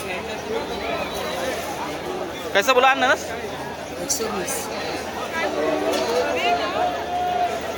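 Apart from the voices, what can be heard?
crowded fruit market crowd chatter, Dadar market, Mumbai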